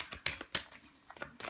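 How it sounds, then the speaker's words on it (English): Tarot cards being shuffled by hand, giving a rapid series of crisp papery riffles and flicks, close and fairly quiet, with no voices. "shuffling the cards"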